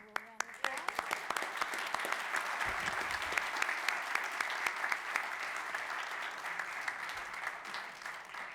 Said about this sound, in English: We'll give him a little round of applause